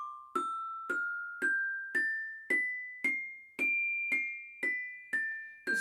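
Bright metallic bell tones from orchestra bells struck one at a time, about eleven even notes stepping up a scale from C then back down, each ringing briefly.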